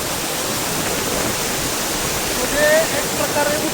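Water pours over the Andhali dam on the Manganga river, filled by heavy rain, in a loud, steady, unbroken roar that fills the whole stretch.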